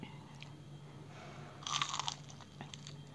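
A big, crunchy fried shrimp being bitten close up: one crisp, crackling crunch, then softer chewing crunches, quiet overall with no talk.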